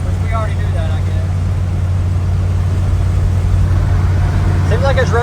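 A 1967 Ford F100 pickup, abandoned for twenty years, drives along with a steady low engine drone and road rumble inside the cab, while people speak briefly at the start and end.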